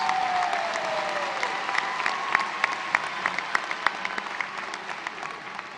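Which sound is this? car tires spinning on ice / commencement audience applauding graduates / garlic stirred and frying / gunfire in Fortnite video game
commencement audience applauding graduates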